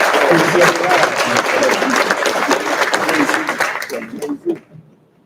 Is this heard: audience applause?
yes